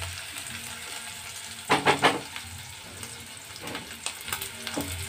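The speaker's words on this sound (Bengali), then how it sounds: "পেঁয়াজ কুচিটা হালকা" Chopped onion fries and sizzles in a pan for dal makhani, a steady close hiss with a few louder crackling bursts as it is stirred.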